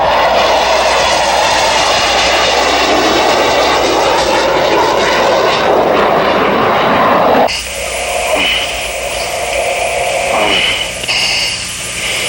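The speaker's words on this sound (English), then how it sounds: "the underside and topside of an F-18" An F-18 fighter jet roars overhead, a loud, sustained engine rumble and whine that swells as it passes and then shifts abruptly to a thinner, receding tone.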